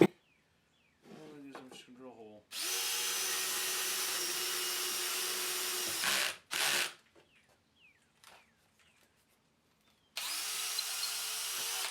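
A power drill whines steadily for several seconds, stops briefly, runs again in a short burst, then starts once more after a pause, with some talking in between.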